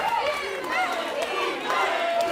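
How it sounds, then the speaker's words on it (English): Wrestling crowd at a live indie pro-wrestling show, cheering and roaring steadily throughout with shouts rising over the din, loud and close to the ringside. "The crowd's on fire."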